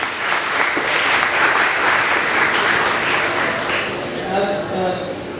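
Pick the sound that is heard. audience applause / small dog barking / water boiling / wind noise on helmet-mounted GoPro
audience applause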